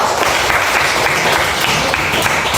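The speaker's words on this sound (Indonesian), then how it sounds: "Tepuk tangan buat Kesha." A school class applauds a student named Kesha, steady dense clapping from many hands filling the room, loud and close, with no talk.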